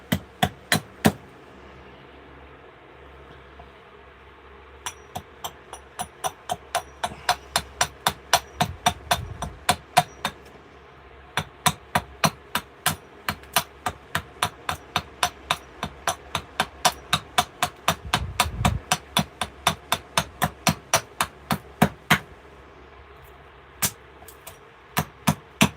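Axe hewing a piece of wood roughly square, dozens of sharp evenly paced chopping blows ringing out close and loud, with brief pauses between runs of strikes.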